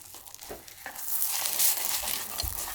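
A thin egg garnish (jidan) fries in oil in a pan, giving a soft, steady sizzle that swells to a louder crackling hiss, with a few light scraping touches and no voices.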